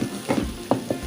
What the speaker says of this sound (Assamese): চচখিনি দিয়াৰ পাছত এইখিনি ভালদৰে লৰাই ল'ম।